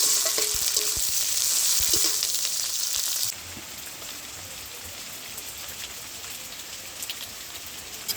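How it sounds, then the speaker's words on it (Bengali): Onion, crushed garlic and green chillies frying in oil in a pan, a loud bright sizzle with stirring clatter that drops to a quieter steady hiss midway, no voices. "পেঁয়াজটা একটু ভেজে নিয়েছি এবার রসুন ওটা থেতো করে দিয়ে দেবো জন্য কাঁচা লঙ্কা ভালো করে ভেজে নেব"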